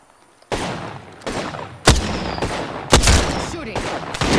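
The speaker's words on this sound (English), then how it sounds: "Shooting." Gunfire from the video game Apex Legends rings out in several sharp, loud bursts of shots, some with rapid follow-up fire, close and punchy with no talk over them.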